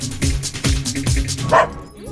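A dog in a Hindi-dubbed film scene gives a few short, loud barks and yips close by, clustered in quick succession over a busy soundtrack.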